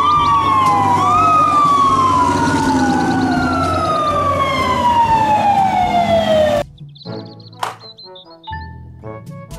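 Toy fire truck siren wailing loudly in a long, slowly falling electronic tone for several seconds, then cutting off into a short burst of brighter chirping toy sound effects.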